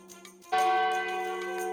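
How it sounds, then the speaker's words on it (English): A church bell rings out at a festival for the Virgen dela Rosa in Makati City, one resonant strike sounding with a sustained, slowly fading hum after a brief quieter start. "The church bell tolls,"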